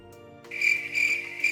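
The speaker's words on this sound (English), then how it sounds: "Awkward crickets after chat getting the sound effect wrong." A crickets sound effect plays on a live stream, a steady high chirping trill rising after a brief quiet start over a faint background hum, with no one talking.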